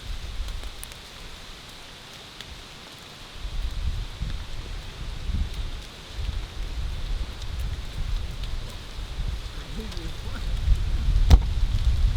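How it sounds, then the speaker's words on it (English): Steady patter of rain falling on surfaces, with low rumbling gusts and occasional sharper drips, continuous throughout. "it seems these days rain just follows us around"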